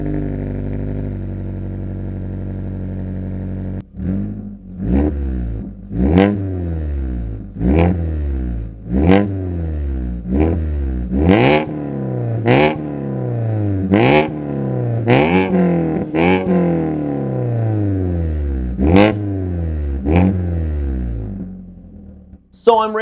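A Mazda 3 fitted with a Mazda Speed exhaust blips its throttle around ten times in quick succession from idle, each rev a sharp rising and falling engine note, loud and near, with a raspy yet deeper throaty edge.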